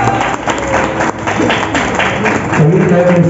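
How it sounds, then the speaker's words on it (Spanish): Dense, close applause fills the room at a band's press conference announcing a national tour, a continuous wash of many hands with voices talking through it. "Un aplauso."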